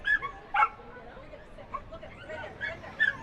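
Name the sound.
corgi dogs barking at a dog race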